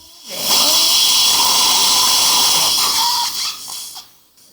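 A steady high-pitched whine of a 4.0 by 10 mm taper dental implant drill boring into jawbone runs for about three seconds, loud and close, then winds down with a few short bursts.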